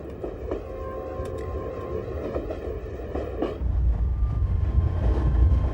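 A JF class steam locomotive runs along a Chinese railway, giving a steady rumbling chug with rhythmic clanking at first, then a deeper, louder low roar as it draws closer. No voices.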